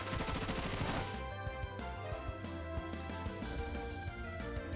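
The Bullet Seed attack in Pokemon Shining Pearl sounds as a rapid burst of sharp, gunfire-like pops over game music, loud and continuous for several seconds.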